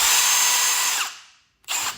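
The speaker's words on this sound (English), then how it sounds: "This is a 1/2-inch drill, and I'm going to put a 1/2-inch bit in there." An electric half-inch power drill runs at a steady high whine, winds down to silence, then spins up again briefly, close and loud with no talking.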